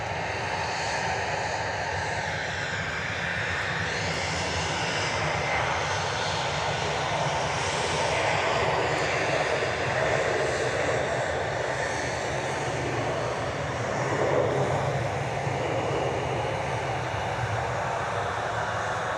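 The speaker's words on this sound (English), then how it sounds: "Airbus A319 going to Des Moines, and in the foreground we had a CRJ 701" An American Airlines Airbus A319 airliner takes off at Dallas Fort Worth airport, its jet engines producing a loud, steady roar that swells and holds for the whole stretch with no voices.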